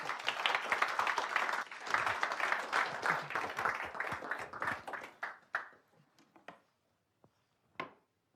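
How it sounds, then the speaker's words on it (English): An audience at a London fintech event applauds a keynote speaker, starting as dense, lively clapping that thins out and fades to a few scattered final claps. "can you please give a big round of applause and welcome up Ezechi"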